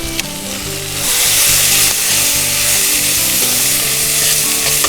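Chopped vegetables sizzle loudly in a pot, a continuous close frying hiss that swells as they are stirred, with faint scraping under the steady crackle.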